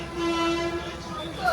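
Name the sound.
Guntur Express train starting from station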